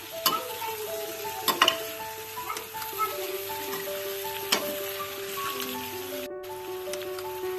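Pumpkin pieces seasoned with chili, amchur powder and salt sizzle steadily in a hot pan, with scattered stirring clatters and scrapes standing out over the continuous frying hiss.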